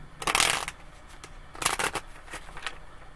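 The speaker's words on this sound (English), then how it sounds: "Did you see that choppy, terrible shuffle?" Two brisk riffling bursts of a tarot deck being shuffled close up, a loud papery flutter followed by a shorter choppy one with scattered card taps, no talking.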